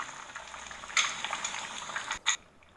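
Assamese fish curry with fiddlehead ferns and nalteng simmering in a pan while being stirred, a soft continuous bubbling and sizzle with a couple of brief scraping stir sounds.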